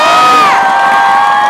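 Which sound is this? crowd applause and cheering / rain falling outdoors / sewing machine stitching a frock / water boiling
crowd applause and cheering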